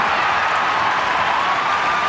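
Crowd noise at an Australian football match between the Sydney Swans and Hawthorn, a dense, steady wash of distant murmur and faint clapping from a large stadium audience, even and unbroken throughout.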